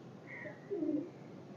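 A pigeon coos softly, one low rolling coo after a faint higher call, heard alone against a quiet background.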